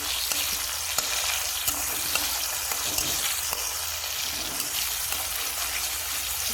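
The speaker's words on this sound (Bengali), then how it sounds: "আমি এবার হাই ফ্লেমে করে দিলাম পেঁয়াজটা ভালো করে ভেজে নিচ্ছি" Onions fry in a pan on high flame with a continuous close sizzle, and light stirring scrapes and taps recur throughout with nobody speaking.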